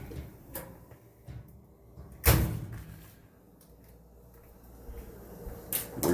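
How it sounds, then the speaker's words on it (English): A refrigerator door with a detached bottom seal closes once with a single moderately loud thump partway through, amid low household background noise and a few faint knocks. "Refrigerator door."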